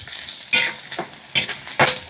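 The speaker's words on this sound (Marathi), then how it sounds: "कांदा, लसण, हिरवी मिरची मस्त लालसर होऊ द्यायची." Onion, garlic and green chilli fry in a pan for a wild-greens bhaji, with a loud, close, continuous sizzle and several quick spatula stirs throughout; no voices.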